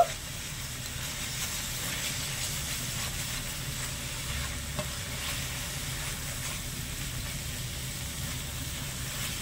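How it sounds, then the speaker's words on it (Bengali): Raw mango pickle being stirred and mixed with vinegar and spices, a continuous soft hissing, scraping texture close by, steady and even throughout with no voices. "এবারে ভালো করে নেড়ে ছেড়ে মিশিয়ে নেব"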